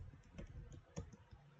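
Code being typed on a computer keyboard: a quiet, close run of light key clicks at an uneven pace, with one slightly firmer press near the end.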